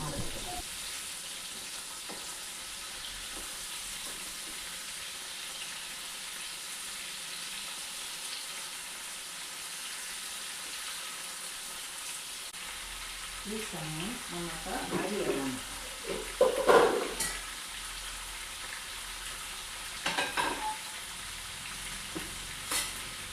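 Prawns frying in hot oil for a prawn biryani, a steady low sizzle that grows busier with stirring and turning clatter in the latter half, fairly quiet and with no talking.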